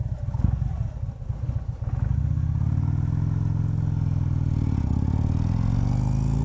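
A black and white Harley-Davidson motorcycle with a hydraulic clutch starts up after some clatter, then settles into a loud, steady, close engine rumble that runs alone to the end.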